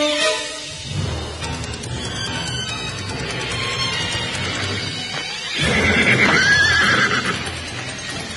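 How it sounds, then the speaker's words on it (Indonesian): Four horses draw nearer, hooves clip-clopping under a low rumbling backdrop before loud, shrill neighs and whinnies burst out close by near the end, with no talking. "4 ekor kuda itu semakin dekat"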